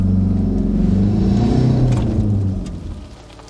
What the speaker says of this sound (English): He swung the car toward the hospital, pushing the engine like he was outrunning himself.